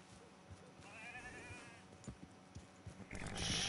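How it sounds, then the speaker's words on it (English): Sheep bleat in the open-world game Red Dead Redemption 2, a wavering animal call in the middle of the clip over soft ambient game noise and a few thuds, ending in a louder rush of sound. "Sheeps."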